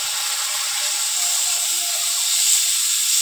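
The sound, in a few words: spice paste water poured into a hot pan, sizzling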